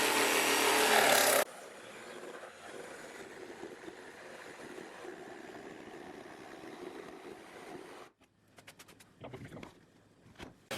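A jigsaw cutting wood in a woodworking shop, a loud burst of blade buzz at the start giving way to a quieter rasping cut, then scattered clicks and knocks as the cut stops.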